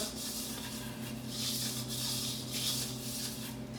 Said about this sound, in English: And then you're gonna rub the inside of your bowl, like so.